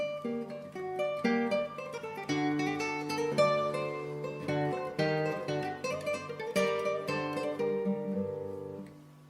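A classical guitar plays the contrasting B theme of a rondo in a European style by Pedro Ximénez, with clear plucked melody over arpeggiated harmony, solo and close, flowing steadily with no talk.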